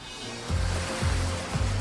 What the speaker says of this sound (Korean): 평소 파도 소리만 가득했던 조용한 바닷가 마을